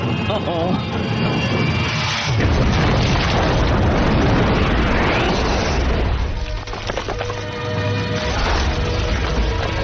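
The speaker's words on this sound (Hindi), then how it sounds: "5 सेकंड में जहाज में विस्फोट होने वाला है।" A cartoon spaceship's reactor core blows up in an animated Iron Man episode, a long roaring blast with rumbling booms and crackling debris, loud and sustained, with voices mixed in.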